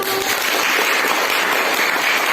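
Classroom applause for a student group, a steady, dense clapping from many hands filling the room, loud and unbroken for a couple of seconds.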